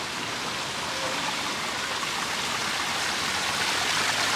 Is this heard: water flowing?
yes